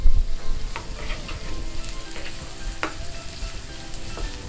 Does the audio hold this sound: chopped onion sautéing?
yes